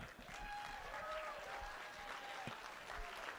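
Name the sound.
wedding guests applauding after a toast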